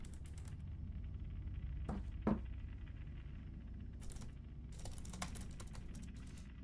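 Keyboard typing in the horror game Fears to Fathom, a scattered sequence of soft, quick key clicks with a few sharper taps, heard close over a quiet room hum, with no talking.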